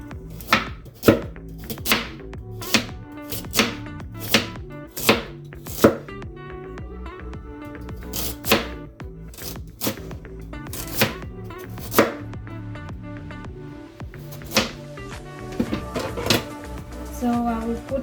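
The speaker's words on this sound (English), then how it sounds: "And I have my carrot, which I will be chopping." A knife chops a carrot on a board in crisp, evenly spaced strikes, close and distinct, slowing and thinning out toward the end, with a voice talking in the background.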